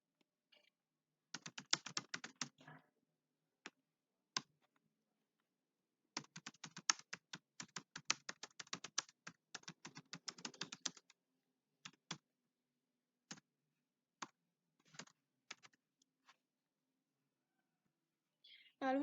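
Quiet, close keystrokes on a computer keyboard come in quick bursts and scattered single taps, with pauses between runs of typing.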